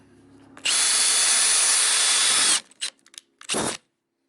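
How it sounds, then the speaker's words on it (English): A power drill whines loudly for about two seconds as it bites through a metal rivet head on a vintage Airstream trailer window, then a few short bursts follow before it stops. "So you can drill that rivet head off, or if necessary, drill it through."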